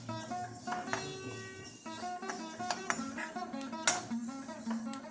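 Scattered small pops and clinks crackle as sesame seeds roast in a pan over a steady background hum, irregular and fairly close.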